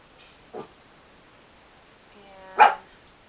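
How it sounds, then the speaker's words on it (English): A pet dog barks twice indoors, a short yelp and then a louder, harmonic bark about two seconds later, both close and standing alone against a quiet room. "My dog."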